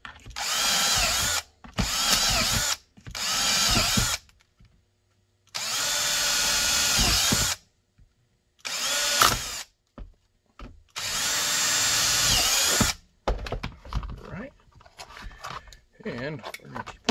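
A power drill bores holes into a coyote brown carbon fiber OWB holster for an FN 509 Tac, whining in several loud bursts of a second or two separated by pauses, and handling noises follow at the end.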